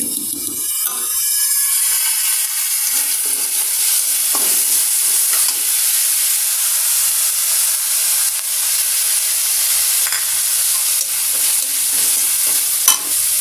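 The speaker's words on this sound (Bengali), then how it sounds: "মশলাগুলো কষায় নিচ্ছি জিরা আদা রসুন বাটা আর পেঁয়াজ একসাথে দিয়ে দিলাম" Cumin, ginger and garlic paste and onion fry together in a pan while being cooked down for a rohu fish curry with potato and eggplant, giving a steady, loud sizzle with stirring scrapes throughout and no talk.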